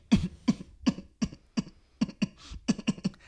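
A voice imitates coughing: a run of about eleven short, sharp cough-like bursts at a steady rhythm, close and fairly loud, with no other talk.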